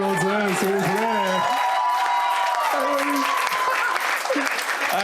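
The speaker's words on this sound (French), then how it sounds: "Bonne fête, Julie, on peut l'applaudir, c'est vrai." An audience at a Quebec stand-up comedy show breaks into loud, sustained applause that fills the room, while a voice talks over the start of it.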